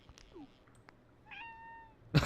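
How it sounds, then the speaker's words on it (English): A cat in the video game StillWater meows several times, short rising and falling cries spread across a quiet background, ending in a sudden loud burst of noise. "now everyone's meowing because I meowed"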